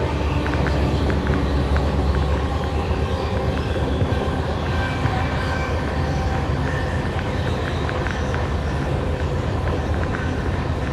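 The 12482 Shri Ganganagar–Delhi Intercity runs along the rails near Narwana, giving a continuous loud rumble with faint rhythmic clacking of wheels over joints, heard from inside the train.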